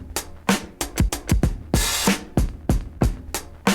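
A drum break, a looped funk pattern of punchy kicks, crisp snares and hi-hats in a steady groove, with a brief open cymbal wash midway, played dry and close.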